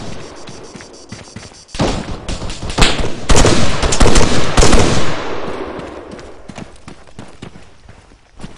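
Rapid machine gun bursts crackle in ArmA 3 during a valley campaign battle, a dense loud volley of shots that then tapers into scattered, fainter rounds.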